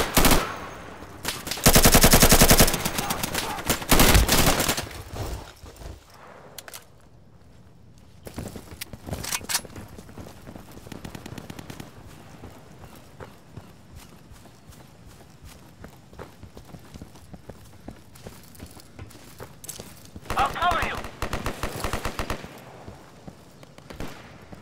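Game gunfire in the tactical shooter Insurgency during a market firefight: a loud, dense burst of automatic rifle fire at the start, then scattered distant shots, footsteps and movement, with another short burst near the end.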